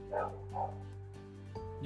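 A neighbor's dog gives two quick, muffled barks in the distance, faint behind a steady hum, as a voice starts speaking at the end.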